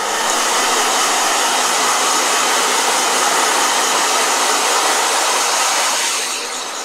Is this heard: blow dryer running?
yes